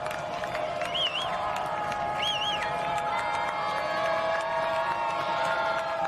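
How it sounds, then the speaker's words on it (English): A loud home crowd at a high school football playoff game roars and cheers in a steady, distant wash, with whistle-like warbling tones rising above the noise. "The St. James crowd is loud here."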